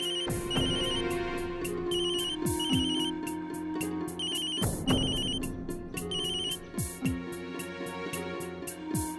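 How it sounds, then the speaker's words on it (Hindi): A phone's ringtone trills again and again in a regular pattern, accompanied by background music and scattered clatter. "प्लीज एक बार तो फोन उठा लीजिए"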